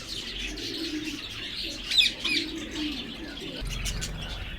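Birds at a Sunday bird market in Quetta, including a ringneck pair, give soft coos, chirps and brief wing flutters over a steady murmur of market background.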